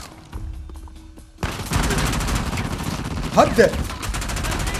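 Gunfire in the PS4 video game Uncharted: The Lost Legacy, a sudden loud burst of rapid shots that keeps up as a dense, continuous barrage with a sharper crack near the middle, while a voice speaks briefly.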